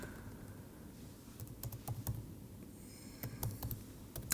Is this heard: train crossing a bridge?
no